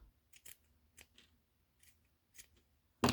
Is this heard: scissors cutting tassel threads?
yes